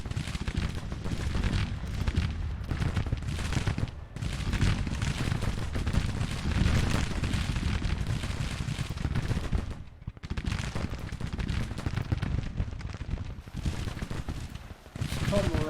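Cannon and musket fire in a Civil War strategy game rattles continuously in dense volleys and heavy booms, with a few brief lulls between bursts.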